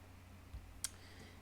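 A single computer mouse click, sharp and fairly close, with a soft low thump just before it and faint background hum.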